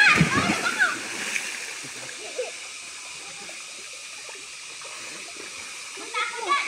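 A person who cannot swim jumps into water, making a loud splash right at the start with sloshing that trails off, then quiet water sounds, faint voices and another small splash near the end.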